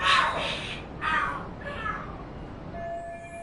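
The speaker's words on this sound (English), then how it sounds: "Are there cats fighting?" Cats screeching and yowling in a fight in the video game Lost Judgment: three harsh, loud bursts of caterwauling in quick succession, fading toward the end.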